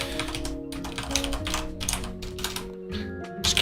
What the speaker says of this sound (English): Alas, I have a loud mechanical keyboard.